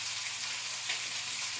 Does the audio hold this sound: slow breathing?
no